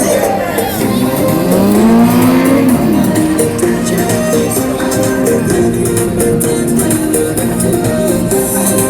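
A motorcycle engine held at steady low revs during a stunt riding exhibition, rising briefly in pitch, with a crowd murmuring and voices in the background.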